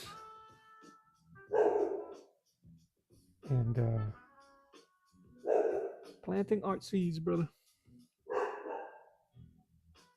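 A dog barks several times in short bursts, close and fairly loud, alternating with someone speaking casually during an art session.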